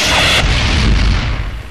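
A bomb blast in a Telugu comedy film scene, one loud close boom with a sharp bright burst that decays into a rolling rumble.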